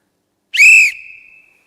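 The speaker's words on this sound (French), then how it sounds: "Attention au coup de sifflet" A single sharp referee-style whistle blast, loud and close, held for under half a second and then trailing off into a thin fading tone, marking the start of a Yamaha contest event at the Lyon two-wheeler show.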